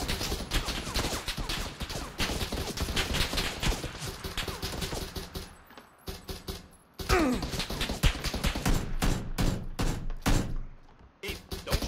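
Gunfire from the battle royale game PUBG crackles in rapid, dense bursts and single sharp shots, with a brief lull partway through before the shooting resumes at close range.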